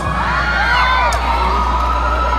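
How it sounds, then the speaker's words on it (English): A large crowd at a university sports festival cheers and shouts continuously, high excited voices and whoops blending into a steady roar over a low hum. "please welcome with a warm applause"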